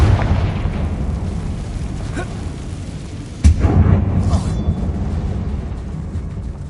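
A fiery Confringo spell bursts in Hogwarts Legacy, a single sharp explosive boom followed by a rumbling tail fading over several seconds, loud against a steady ambient game backdrop.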